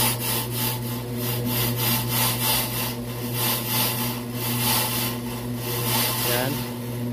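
A mini disc brake refacing machine runs steadily with its cutting blade working, giving a continuous machine hum with a rhythmic scraping, sawing-like cut that pulses evenly throughout at close range.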